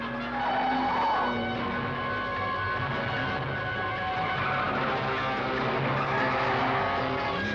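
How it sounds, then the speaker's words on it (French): A car is put into a controlled skid, its tires squealing in a long, continuous screech over the steady engine roar, loud and close throughout. "c'était un dérapage contrôlé"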